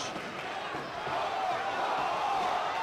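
A wrestling crowd in Chicago cheers at a steel-cage world title match, a dense, steady roar that swells louder and holds through the second half.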